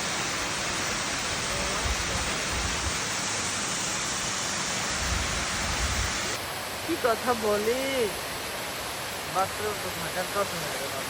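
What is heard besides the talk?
waterfall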